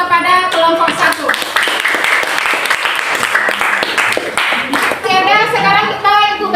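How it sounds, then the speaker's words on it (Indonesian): Classroom applause for a student group, a dense run of clapping from many hands that carries on steadily for several seconds, with children's voices and a teacher's speech mixed in at the start and end. "Sekarang kita beri aplaus dulu kepada kelompok 1."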